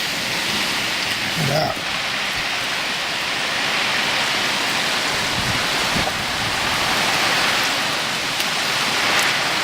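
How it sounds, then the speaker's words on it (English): A heavy outdoor rain downpour at a survival camp hisses steadily and loudly throughout, with a brief spoken comment partway through. "I think we got us a downpour."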